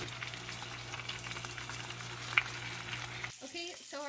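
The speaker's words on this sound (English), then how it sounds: "you want it to start hearing that frying when you put it in" Nabeta fish frying in hot butter in a pan, a steady close sizzle with fine crackling throughout that cuts off abruptly near the end.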